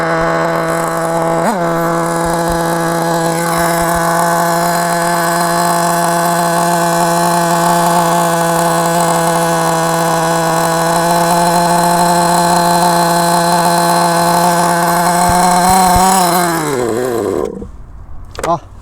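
A Novarossi 6/SN nitro engine on a Kyosho MP5 buzzes at a steady, loud high idle, a strong harmonic drone that holds unchanged for most of the run before the pitch wavers and drops as the engine cuts out abruptly.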